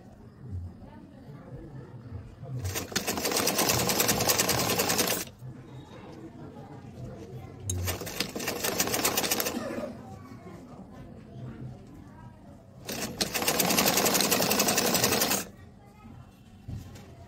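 A sewing machine stitching cloth in three separate runs of rapid, steady whirring, each lasting a few seconds, with someone talking softly between and under them.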